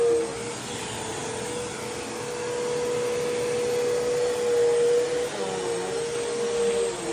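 A vacuum cleaner runs on carpet during professional carpet cleaning, a loud steady motor whine with a fixed tone that swells slightly as it moves.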